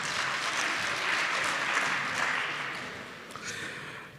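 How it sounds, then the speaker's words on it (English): A room full of people at a municipal council meeting applauds with dense, steady clapping that gradually fades out toward the end. "Can you give yourselves a good round of applause?"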